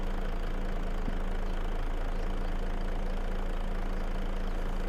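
A tractor engine idles steadily in a farming video game, a continuous low droning hum that stays constant and fairly loud throughout with no talking.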